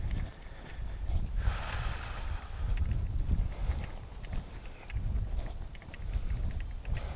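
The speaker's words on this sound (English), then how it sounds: "Wind's blowing a little bit, so it's just enough wind so you're not sweating." Outdoors in downtown Palestine near the courthouse, wind blows in low, rumbling gusts that swell and fade against the microphone, steady and fairly loud, with no talking.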